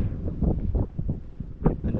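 Strong wind buffets the microphone on a fishing trip, producing low, uneven rumbling gusts that surge and fade in quick succession.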